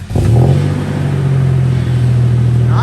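A Toyota 4Runner with a 3.4L V6 5VZ-FE engine and MagnaFlow muffler cranks and fires up. It settles straight into a loud, steady, close idle with a firm low exhaust note and no talk.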